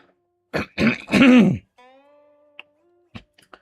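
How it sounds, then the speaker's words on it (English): A person clears their throat with a few rough, guttural bursts, followed by quiet background tones and a couple of small clicks. "I have to clear my throat a little bit"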